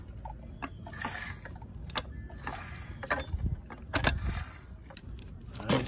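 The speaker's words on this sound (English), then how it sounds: "So you want to pump it with your foot on it." Harbor Freight Pittsburgh 3 ton floor jack being pumped by foot, a series of soft metallic clanks and ratcheting clicks in an uneven rhythm, fairly faint and close, with no talk.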